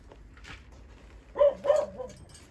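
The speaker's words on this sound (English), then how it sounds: "Sorry about the dog barking" A dog on an allotment barks twice in quick succession, loud and fairly near, after a quieter yelp and low background noise.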